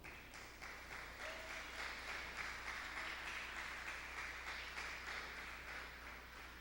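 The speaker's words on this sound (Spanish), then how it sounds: "¿Cuántos le dan palmas al Señor?" Church congregation applauding during a sermon, a roomful of people clapping in a steady, slightly rhythmic pattern, sustained and even for several seconds with no voices on top.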